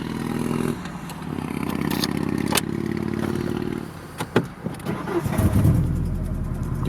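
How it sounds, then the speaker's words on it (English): A 1998 Ford Ranger XLT extended-cab pickup engine cranking and catching, a steady low churn at first, then clicks and clunks before the engine settles into a low idle. "if I start up the truck again"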